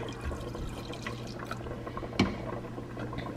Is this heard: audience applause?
no